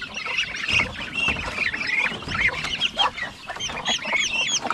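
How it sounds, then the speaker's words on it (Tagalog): A flock of farm chickens on a rural Filipino homestead, clucking and squawking in overlapping calls, busy and fairly close, with no one talking. "Sus, ang dami nating manok dito."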